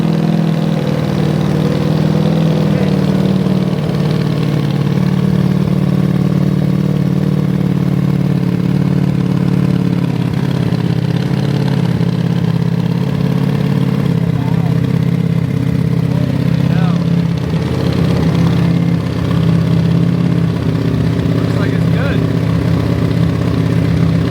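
A Ducati Diavel V4 motorcycle fitted with a clear clutch runs steadily and loudly close by, a continuous throbbing engine drone with mechanical clatter, while voices talk faintly underneath.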